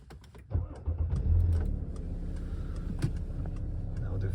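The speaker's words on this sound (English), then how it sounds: "I'll start the engine just to show you" A Citroën C6 3.0 HDI V6 diesel starts up: a brief crank near the start, then the engine catches and settles into a steady, moderately loud idle hum that continues to the end.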